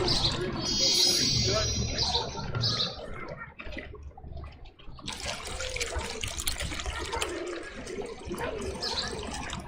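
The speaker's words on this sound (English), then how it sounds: "Now we need to water the flowers." Water poured from a watering can onto flowers, a steady trickling splash that runs throughout with a short dip in the middle, moderately loud, with a voice speaking over it.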